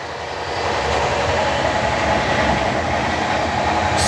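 A passenger train to Mumbai rumbles along steadily, a loud continuous roar of wheels and carriages from start to end, with no voices.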